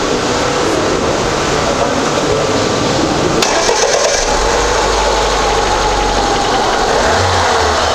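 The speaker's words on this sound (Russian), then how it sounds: "Что, обороты дать? Давай обороты, подожду." A car engine runs close by at a steady idle after a timing chain hydraulic tensioner replacement, with a brief rise in revs partway through and a low rumble underneath.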